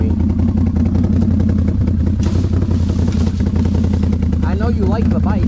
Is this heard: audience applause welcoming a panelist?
no